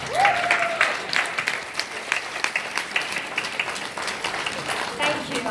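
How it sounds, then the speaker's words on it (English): An audience gives a round of applause, moderate clapping that rises quickly and then thins to scattered claps, with a voice speaking briefly over it. "Give him a round of applause."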